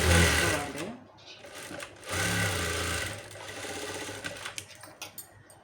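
A sewing machine stitches a blouse in a steady mechanical whir, with bursts running and stopping and light clicks near the end, heard up close while someone speaks over it.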